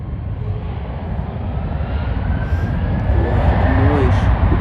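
A Boeing 777 roars steadily at Schiphol airport, its engines building slightly over a broad rumble, with voices talking over the noise.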